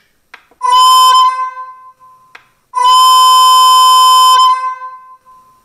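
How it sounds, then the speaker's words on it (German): Two loud, shrill horn blasts from an H0 model Vossloh G 1000 BB diesel locomotive, a short one then a longer one, each preceded by a faint click, with silence between. "Ein hohes Horngeräusch."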